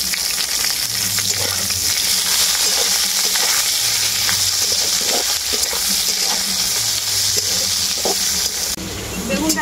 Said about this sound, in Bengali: এখন আমি এর মধ্যে দিয়ে দেব বেগুন